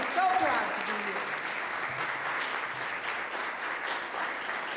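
Applause from an audience at an award ceremony for an honored student: a sustained even wash of clapping from many hands, with a voice briefly audible at the start.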